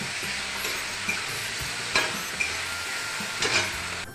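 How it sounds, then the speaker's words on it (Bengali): Eggplant fries with turmeric and spices in fish oil, a close steady sizzle broken by the scrape and clack of a spatula stirring the pan every second or so, with no talking. "এবার একটু কষে নেব"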